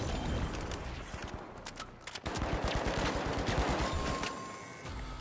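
Hip-fired weapons in the shooter game The Finals let off rapid, loud bursts of automatic gunfire with close, crackling shots rattling almost continuously for five seconds.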